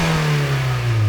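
The engine of a 1999 Mazda MX-5 Miata NB with a sport exhaust revs steadily, a loud, close, grumbling drone with a slight rise in pitch over about a second.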